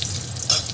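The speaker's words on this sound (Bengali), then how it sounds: "তেলের মধ্যে আমি এখন জিরেটা ফোড়ন দিয়ে দিলাম, এই শুকনো লঙ্কাটা ফোড়ন দিলাম" Cumin seeds and dried red chillies tempering in hot oil, giving a soft, steady sizzle that swells briefly midway, with no talking.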